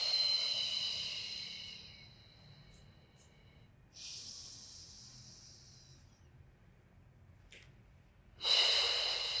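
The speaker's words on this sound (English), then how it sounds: "We inhale through the nose, we exhale through the mouth, working on our diaphragmatic breath." Slow, deep breaths during a beginner Pilates warm-up, drawn in through the nose and let out through the mouth. Soft airy inhales and exhales come in long swells close by, followed by a louder breath near the end.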